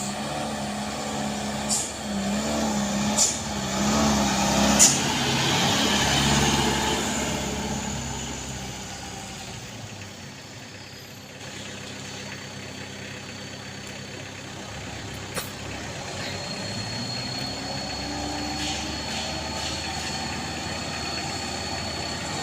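A heavy truck labors on the steep Kedabuhan incline. Its deep engine rumble runs steadily throughout, with a few sharp airy hisses early on and no one talking.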